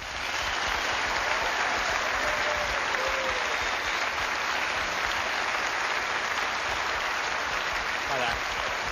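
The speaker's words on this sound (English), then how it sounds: "give him a round of applause to our member of the audience" A live audience gives steady, sustained applause for a volunteer at a live show on Derby Day, a dense, even roar of clapping that holds at a constant level throughout.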